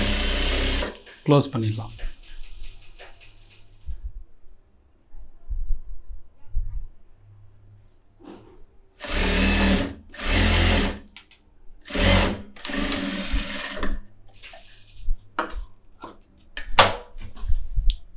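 A tailor's sewing machine stitches fabric in several short whirring runs of a few seconds each, close and loud, with someone talking quietly between runs.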